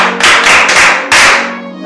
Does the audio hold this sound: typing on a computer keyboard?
no